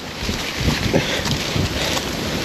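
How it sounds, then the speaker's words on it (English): A strong outdoor wind gust roars as loud, continuous buffeting rumble across the microphone, with no pauses and no voices. "Well, I survived that last burst of wind,"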